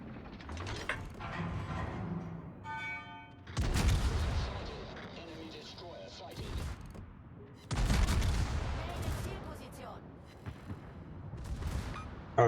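A battleship's secondary guns fire in World of Warships, two heavy, booming volleys several seconds apart with rumbling tails, and someone talks quietly between them.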